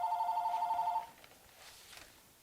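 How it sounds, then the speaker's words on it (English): A telephone rings with a fast trilling electronic bell for about a second and then stops, leaving a quiet room. "And there's the phone."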